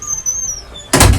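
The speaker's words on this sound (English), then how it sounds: "let me shut that door" An indoor door is shut in a workshop where bifold Japanese screens are being made. A single loud bang lands near the end of the clip after a low, quiet background hum.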